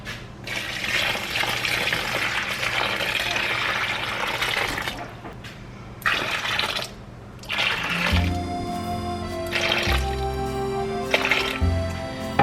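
Warm water rushes from a tap into a container for sourdough dough, a steady pouring hiss that briefly stops and restarts, with a rising tone as the vessel fills.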